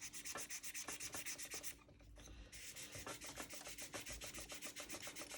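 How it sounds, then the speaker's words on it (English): Rhythmic back-and-forth scraping of a 600-grit sanding stick against the plastic wing ribs of a 1/24 scale Airfix P-51D Mustang model kit, close and quiet strokes in a steady pattern with a brief pause in the middle. "I'm going to start sanding my ribs down"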